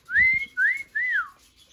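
A pet bird named Mikey whistles three clear, loud, close notes, each one rising and then sliding down, with short gaps between them.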